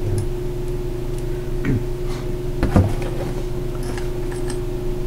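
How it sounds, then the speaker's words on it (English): A furnace heating a cold garage workshop gives off a steady low hum, with scattered ticks and small metallic clicks from nearby work. "So the sound you're hearing is the furnace."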